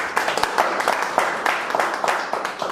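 A school debate team claps together in a classroom, steady dense applause with sharp overlapping hand strikes running the whole time, fairly close and moderately loud.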